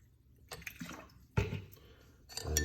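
Water is poured into a lime and cayenne pepper drink in a few short, quiet splashing bursts, close by and with gaps between them.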